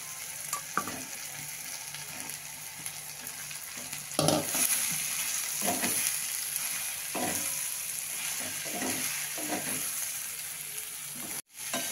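Okra sizzles steadily in a pan over low heat, with scraping stirs and clinks of the spatula against the metal breaking through a continuous fry hiss; no one speaks.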